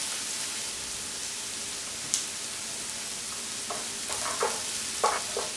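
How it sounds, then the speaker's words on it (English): Onions softening in a pan with salt and pepper, a steady soft sizzle with a few faint stirring scrapes and taps near the end, no voices. "Stir it round, soften up these onions."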